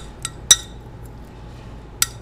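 Metal measuring spoons clink together in a few sharp, bright taps: a faint one, a louder one, then one more after a pause, against a quiet background.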